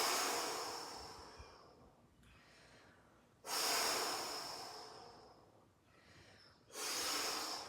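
Slow, deep breaths during a qigong exercise, two strong airy inhalations standing out clearly between quieter stretches of soft exhaling, close and unaccompanied by talk.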